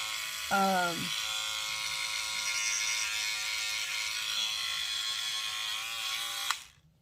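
A cheap Oral-B electric toothbrush runs with a steady high buzzing whine for several seconds, close and loud, then cuts off abruptly; a brief voice sounds near the start.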